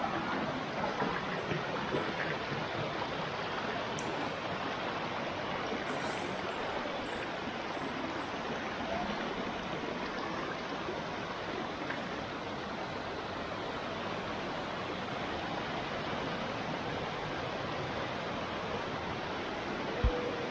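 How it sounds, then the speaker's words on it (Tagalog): Water of Tumaniw Falls in Buscalan, Philippines, pours down from above in a steady, full rushing roar that holds unchanged from start to finish, with no voices. "yung tunog ng pagdaloy ng tubig mula sa taas"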